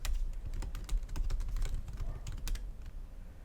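Rapid, uneven clatter of fingers typing on a computer keyboard, close and fairly quiet, in bursts of keystrokes over low background hum.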